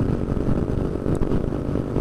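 Motorcycles fitted with loud aftermarket 'brong' exhausts rumble along a winding mountain road near Lumajang, a close, steady low engine drone with slight throttle swells and no talking.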